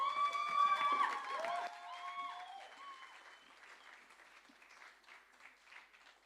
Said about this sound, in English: give a stadium-sized round of applause